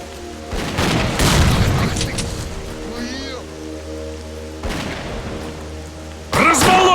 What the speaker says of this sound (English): Here, catch a grenade.